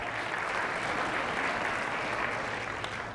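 Steady, dense applause fills a chamber of commerce membership luncheon room, continuous and moderately loud with a faint murmur of the crowd beneath it.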